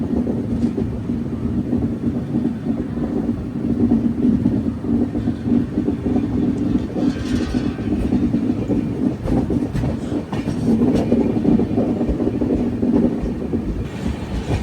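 The Sirpur Kagaznagar Intercity train rolls past steadily and loudly nearby, a continuous rumble of carriages with rhythmic clickety-clack from the wheels over the rail joints.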